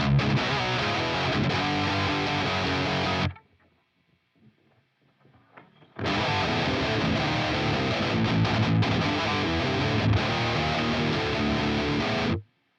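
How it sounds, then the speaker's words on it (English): An electric guitar plays through a poly shifter pitch-shift pedal with heavy distortion, in two loud, dense passages separated by about three seconds of near silence. "You can just pitch up or down and use the poly shifter."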